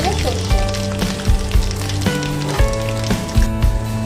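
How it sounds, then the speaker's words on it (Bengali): Cumin seeds sizzle and crackle in hot oil in a wok, a steady loud frying hiss with sharper pops and a few stirring clatters, heard alone without talk. "কড়াই আমি দিয়ে দিয়েছি তেল সেটাও গরম গেছে এবার ফোড়নে আমি দিয়ে দিচ্ছি প্রথমে জিরা"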